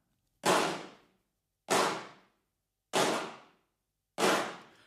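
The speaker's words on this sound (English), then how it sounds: "That's a lot of people clapping." Layered crowd hand clap from combined Hand Clap Studio plugin instances: four loud, evenly spaced bursts, each a dense smack of many hands that fades quickly into silence.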